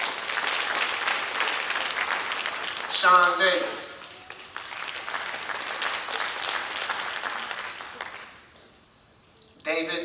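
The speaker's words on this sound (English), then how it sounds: "That's the CEO clapping" An audience at a graduation ceremony breaks into sustained applause for several seconds, pauses briefly as a name is announced, then claps again before fading to near silence, with a short new burst at the end.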